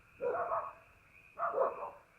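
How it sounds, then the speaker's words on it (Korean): A dog barks at a quiet rural campsite in spring: two separate muffled bark bursts about a second apart, fairly faint and a little distant, with no talk. "개 짖는 소리 좀 안 나게"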